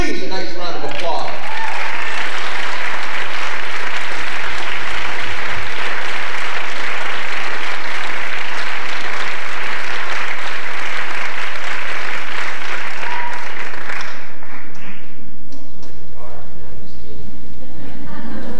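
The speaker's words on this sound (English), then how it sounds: "Please, a nice round of applause." Loud, sustained audience applause at a benefit show in The Music Hall, Portsmouth NH, greeting the performers Mateo and Django, a dense roar of clapping that swells and then fades, with voices surfacing near the end.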